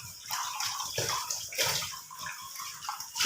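Water poured into a cooking pot of potatoes while preparing a home-style dish, a steady close splashing and rushing pour with uneven surges, heard alone without talk.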